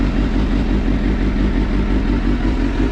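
A sportbike engine with a standalone ECU, held at high revs against its rev limiter, gives a loud, steady, buzzing drone with clattering texture throughout.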